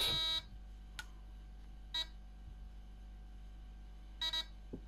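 An airsoft gun's T238 MOSFET gives short electronic beeps at intervals, with a quick double beep near the end over a quiet hum.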